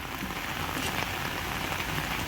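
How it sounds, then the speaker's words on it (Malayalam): Steady rain drums on a tarpaulin stretched overhead during roof concreting work, a dense, continuous patter with no break and no voices. "ആ മഴ പെയ്യുന്നത് ഞാൻ ഒട്ടും പ്രതീക്ഷിച്ചില്ല"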